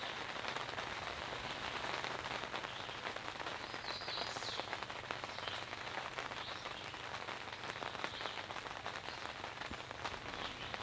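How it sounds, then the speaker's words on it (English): Steady light rain patters on a large tent overhead, a dense, even drizzle of tiny taps with no voices. "So it's just a little bit of rain coming over the top of us."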